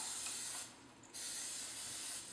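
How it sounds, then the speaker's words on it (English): Pam olive oil cooking spray hisses onto a high-sided glass baking sheet in two short, soft bursts with a brief pause between them, close and quiet. "spray it with some Pam olive oil"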